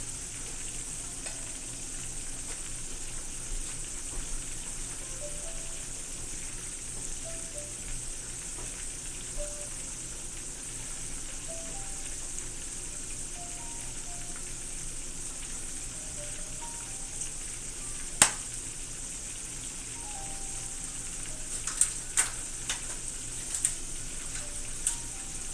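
Thick pieces of food deep frying in hot oil give a steady, continuous sizzle with a few sharper pops and crackles near the end, heard up close with no talking.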